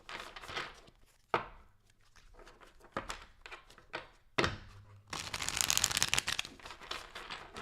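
Quick bursts of tarot cards being shuffled and riffled, with soft slaps and fluttering crackles in irregular clusters, close up and fairly quiet.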